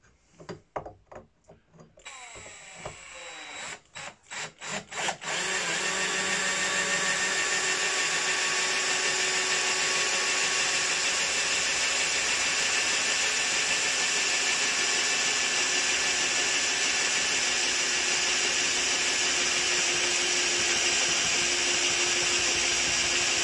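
A Parkside PBSA 20-Li A1 cordless drill bores through 6 mm structural steel treated with cutting oil, starting with a few short stuttering bursts before settling into a loud, steady, continuous whine with grinding that runs unbroken to the end.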